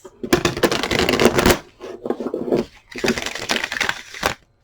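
Oracle cards are shuffled in several loud, crisp bursts of riffling and slapping, with brief pauses between handfuls and a final sharp snap near the end.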